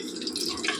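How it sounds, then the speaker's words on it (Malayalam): Cooking oil is poured into a pan to make Kerala chammanthi podi, heard as a steady, close liquid trickle with a faint dripping texture that runs without a break. "ആദ്യം നമുക്ക് എണ്ണ ഒഴിക്കാം"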